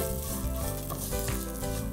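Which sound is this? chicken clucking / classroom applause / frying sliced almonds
frying sliced almonds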